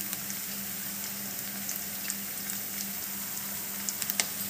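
Onions fry in a pan with turmeric for samosa filling, giving a steady, even sizzle with scattered small crackles and pops near the end, and no voices.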